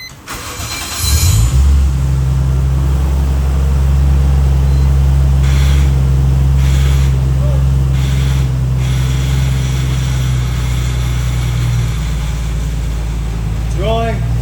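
A Toyota Chaser JZX100 cranks and settles into a steady, loud idle rumble close by, holding for over ten seconds while the car starts rolling, with people talking over the engine.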